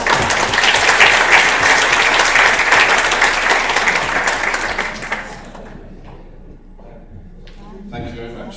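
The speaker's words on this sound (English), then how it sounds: "I'm not sure why we're clapping." An audience at a bariatric surgery conference claps loudly after a talk, the applause dying away after about five seconds, followed by quieter room noise and a voice speaking.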